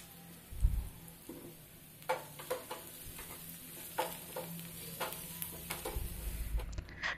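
Onions and curry leaves sauté in a pan for a Coimbatore-style home lunch: a soft, steady sizzle runs under a series of scraping stirs and light clinks of a spoon against the pan, close and unaccompanied by speech.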